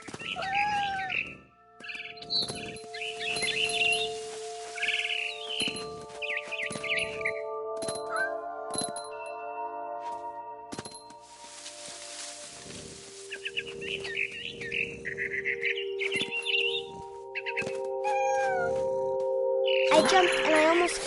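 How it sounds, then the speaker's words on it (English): A barn swallow in the video game What Remains of Edith Finch chirps and twitters repeatedly over ambient game sounds and soft clinks, with a few cat-like meows in between. "Then I heard chirping outside my window. It was a barn swallow going back to her nest."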